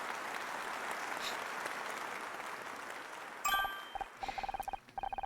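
A burst of crowd applause plays as a sound effect in the puzzle game Murder By Numbers, then gives way to a quick run of bright dings and chimes.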